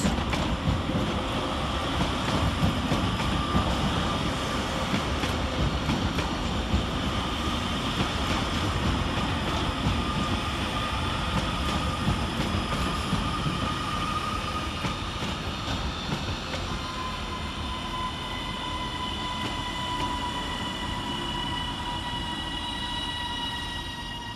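Two coupled Northern Class 331 electric units arriving at Manchester Oxford Road station, a loud steady roll and rumble with high whining tones sliding down as the train slows, close by and continuous, no voices.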